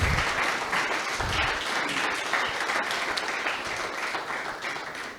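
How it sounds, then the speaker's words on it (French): Audience applause at an agricultural talk event, a warm wash of many hands clapping that starts strongest and gradually thins and fades toward the end, heard alone without speech. "Mesdames et messieurs, je vous prie de l'applaudir encore une fois."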